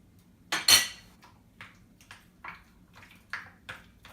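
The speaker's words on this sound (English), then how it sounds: "Then I'm going to add to this some strawberries. Just cut them up like so." Strawberries are cut with a knife against a bowl or board, giving a sharp clink followed by a series of lighter, evenly spaced taps and chops, close and clear, with no talking.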